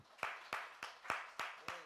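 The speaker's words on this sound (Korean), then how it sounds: "우리 한 번 더 부활하신 주님께 박수" Congregation at an Easter Sunday church service clapping in unison, six sharp, evenly spaced claps about a quarter second apart, quiet and slightly distant.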